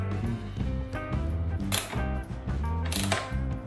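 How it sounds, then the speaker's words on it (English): A hand ratchet with a 7/16 socket tightens fairing bolts on a Roar Warrior motorcycle fairing, giving rapid, close metallic clicks in short bursts with brief pauses between strokes. "we're gonna tighten them down with a 7 16 socket on a ratchet"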